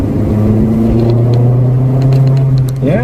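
A Peugeot 205 GTI 1.9 hot hatch drives along, its engine a steady, loud droning hum with a constant low pitch. It rises briefly near the end, with faint cabin rattles over the top.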